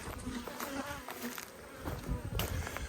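Honey bees swarm in the air around backyard hives, a dense buzzing hum of many wings passing close to the microphone, with individual bees zipping by over the constant drone.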